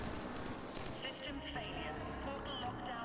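Rapid gunfire rattles in quick bursts in Killzone 3, played on Elite difficulty, sitting under someone talking over the shots.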